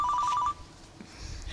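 A mobile phone rings in a quick repeating electronic trill for about half a second, loud and close, then cuts off into quiet room noise.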